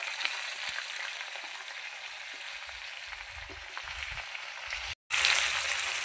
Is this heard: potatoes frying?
yes